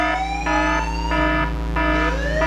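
A wailing alarm siren sounds alone, its rising and falling tones repeating steadily over a constant low hum, loud and close.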